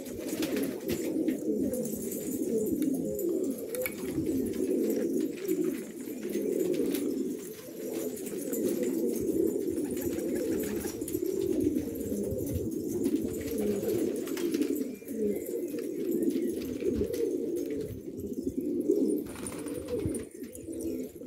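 Continuous low cooing from several pigeons, overlapping throaty calls repeating steadily throughout, fairly close with no talking.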